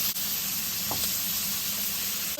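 Butter sizzles in a hot pan with a seared steak, a steady loud hiss of crackling fat throughout with no talking.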